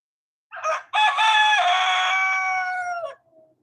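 A garden rooster crows once, close and loud, with a short opening note followed by a long drawn-out call that trails off at the end, with no speech around it.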